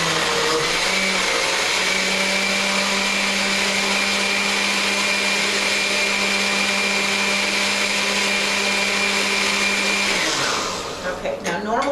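Oster 14-speed blender running on low speed, a loud steady whirring motor held for about ten seconds before winding down, close and alone.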